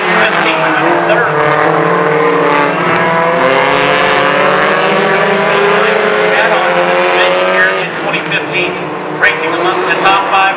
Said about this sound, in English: He puts pressure on Greig in that 33 car